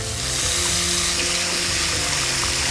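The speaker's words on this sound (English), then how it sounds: "I'm gonna go ahead and put hot water in it here." Hot water runs from a tap into a receptacle for cleaning glass, a steady, close hiss and gurgle of filling water with a faint ringing tone beneath, continuous and with no talk.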